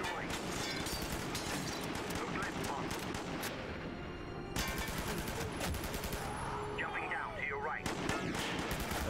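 Gunfire in Quantum of Solace, with repeated bursts of shots and sharp cracks in rapid clusters, interrupted by short pauses, at moderate distance and fairly faint.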